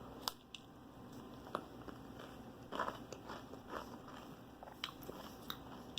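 Someone munches on a Jack's supreme pizza close to the mic, with soft crunchy bites and chewing that recur irregularly over a low steady background hum.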